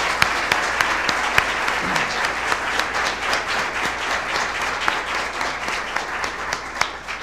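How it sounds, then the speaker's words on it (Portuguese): An audience applauds a broadcast team at an opening citizenship-school lecture. The clapping is steady, dense and moderately loud, with a few sharper individual claps poking through, and there is no talking over it. "a gente queria uma salva de palmas para a equipe de transmissão"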